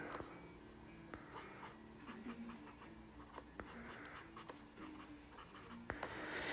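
Tombow markers scratch and squeak across paper in short, repeated strokes while drawing and coloring a sketch card, close and faint with a light background hiss and no talking.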